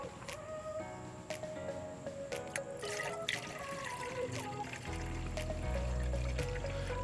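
Antifreeze poured into a car's coolant reservoir, trickling and gurgling at close range amid small clinks and handling noises, with a low rumble building toward the end.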